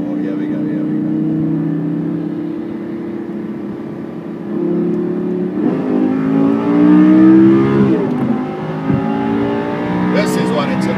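A Lamborghini Superleggera accelerates hard, the engine note rising in pitch through the gears, loud and close, then easing off with a brief lull before pulling again; someone talks over it at moments.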